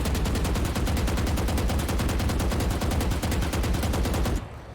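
Sustained automatic rifle spray in the video game Valorant, a rapid, evenly spaced burst of loud shots lasting about four seconds before cutting off abruptly into quiet.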